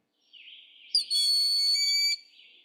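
A small diurnal hawk's flight call played back from a recording, one sustained, piercing, high whistled note with a harsh onset, preceded and followed by a softer, breathy tone.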